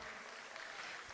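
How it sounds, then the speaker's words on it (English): Applause from a conference audience for a headline sponsor, FedEx, at a youth business event in Africa, a faint, thin, continuous patter of clapping that runs evenly through the whole short stretch. "A round of applause, please, for FedEx."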